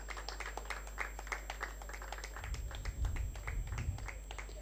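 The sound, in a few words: applause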